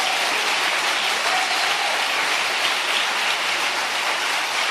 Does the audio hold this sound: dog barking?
no